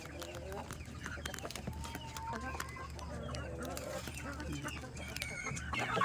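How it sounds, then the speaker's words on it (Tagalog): Chickens clucking outside their coops in a backyard, with several hens giving continuous overlapping clucks and short calls close by, under a steady outdoor ambience, while a person talks at times. "At tuwang-tuwa na naman yung mga manok."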